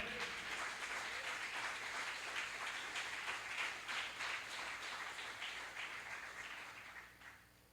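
A church congregation applauds during a sermon, with steady, dense clapping that holds for several seconds before tapering off at the end.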